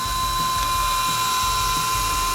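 The motorized head of a Smart Supporter SS3 phone holder whirs as it moves, a steady whining motor drone with faint ratcheting gear ticks, close and continuous throughout.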